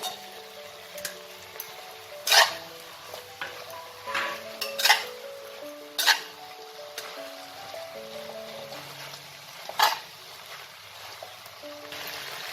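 Vegetables and fried paneer being stir-fried in a pan, with a few sharp spoon-on-pan clatters and soft stirring scrapes under steady background music.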